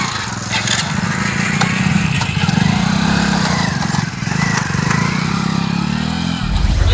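A motorcycle engine idles steadily and loudly nearby, a constant rough mechanical drone that runs throughout with no clear revving.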